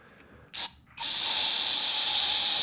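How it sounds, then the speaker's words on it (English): Carburetor cleaner sprayed into a generator carburetor: a short hissing burst, a brief pause, then a long continuous loud spray hiss close up. "I like to just use carb spray"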